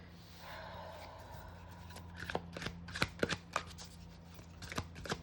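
A tarot card deck is shuffled, soft papery riffles at first, then a run of crisp card slaps and flicks, close and quiet, with no voice over it.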